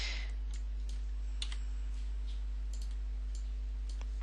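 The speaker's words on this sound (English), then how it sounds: "start typing that again" Scattered light keyboard clicks, a few irregular keystrokes at close range over a steady low electrical hum, no talking.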